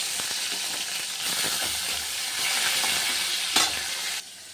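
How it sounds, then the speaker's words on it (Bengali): Whole spices (cinnamon, cardamom, cloves, cumin) and tomato fry in hot oil for chickpea dal, sizzling loudly and steadily close up, with stirring scrapes and a sharp spike near the end. "এই দেখো মশলাটা হয়ে গেছে, টমেটোটা দিয়ে দিলাম।"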